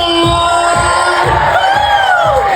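A crowd at a hosted show cheers and shouts loudly, with high sustained whoops and yells over rhythmic thumping, forming a dense, continuous roar.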